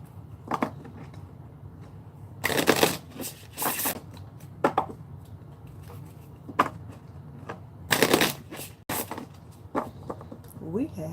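Oracle cards handled and shuffled, several separate crisp riffles and slaps scattered through the stretch, close by, with a person's speech in between.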